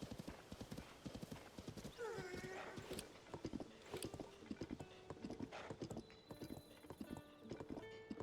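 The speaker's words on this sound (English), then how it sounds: "I'd like to register a horse." In Zelda: Tears of the Kingdom, a horse's hooves clop in a steady rhythm while it gives a clear whinny, with faint game voices in the background.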